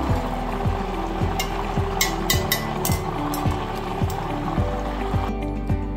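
Chicken frying in oil in a pan gives a loud, steady sizzle with a constant background hum and regular clicking pulses running through it, and a few brief sharp spatters near the end.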